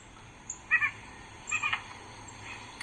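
A white-breasted nuthatch calls outdoors with a few short, nasal notes in two brief clusters, faint and somewhat distant against a steady background hiss.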